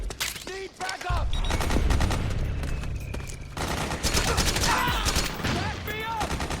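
Frantic gunfire in the game Metal Gear Solid 4: dense rattling bursts of automatic weapons and rapid shots, close and loud, mixed with soldiers shouting over the battle.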